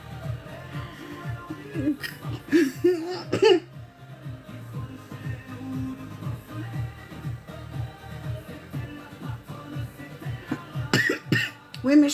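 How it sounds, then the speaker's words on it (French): Someone with allergies coughs in short, close bursts, starting with a cluster and then a few more near the end, while soft talk continues in between. "je tousse beaucoup hein, avec mes allergies"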